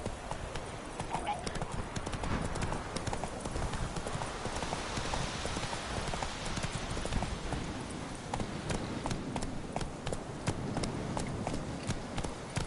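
Roach the horse galloping in The Witcher 3, with rapid, steady hoofbeats continuing throughout, set in a busy game soundscape.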